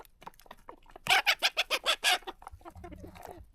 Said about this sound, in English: and they are happy chickens